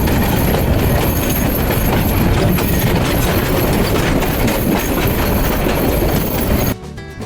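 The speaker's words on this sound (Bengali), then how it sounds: "ট্রেন ছেড়ে গেল জয়দেবপুর রেলওয়ে জংশন স্টেশন থেকে" The Haor Express intercity train pulls out of Joydebpur railway junction and crosses track switches. A loud, continuous rumble carries rhythmic clickety-clack and wheel squeal from close by, then cuts off abruptly near the end.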